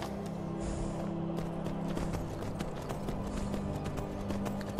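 Horse hooves clip-clop steadily and rhythmically while riding in Skyrim VR, with a continuous soft game ambience beneath the quick, even footfalls.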